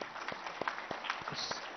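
Audience applause at an industries department annual report launch, scattered clapping from a crowd under and between a man's speech, moderately close.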